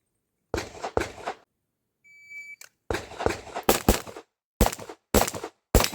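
A shot timer beeps, then loud, close handgun shots ring out in quick pairs and short bursts during IPSC Production division practice outdoors, about eleven shots in all, with no talking.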